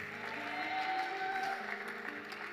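Steady applause from a church congregation, a continuous wash of clapping with a faint tonal hum beneath it.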